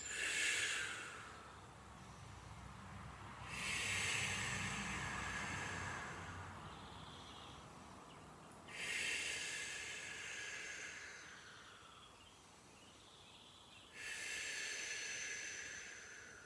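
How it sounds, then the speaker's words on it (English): Slow, deep breathing during a Pilates core workout: three long, loud breath cycles, each a strong airy rush followed by a softer drawn-out exhale, spaced several seconds apart over a low steady background hum. "long inhales through the nose, long exhales out through the mouth"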